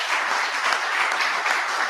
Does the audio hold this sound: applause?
yes